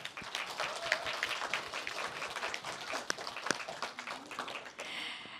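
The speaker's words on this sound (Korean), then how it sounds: "우리 뜨거운 박수로 응원 한번 부탁드릴게요" Audience applause at a children's policy proposal contest in Dongdaemun, a faint, steady patter of many hands clapping from a distance, fading at the end.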